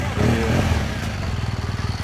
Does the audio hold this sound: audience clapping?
no